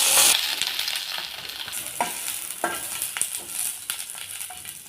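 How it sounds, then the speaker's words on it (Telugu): Cut green chillies frying in hot oil for coconut chutney, a loud close sizzle with repeated sharp spatula scrapes and stirring knocks against the pan, no voices. "ఆయిల్ పోసి పచ్చిమిర్చి వేసుకోవాలి, కట్ చేసి వేసుకోవాలి"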